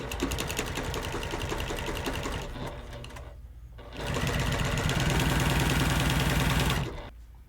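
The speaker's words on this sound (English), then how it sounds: "Now I'm going to start stitching from the edge all the way down, and I'm going to do all 4 corners like this." A sewing machine stitches binding along the edge of a quilt, running in two long steady bursts of rapid, even needle rhythm with a brief pause between them, close and loud with no voices.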